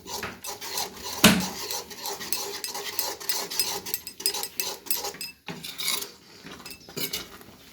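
Vegetables for green pav bhaji stirred and mashed in a pan, a utensil rasping and scraping against the metal in repeated rhythmic strokes with one sharp clank, close and fairly loud.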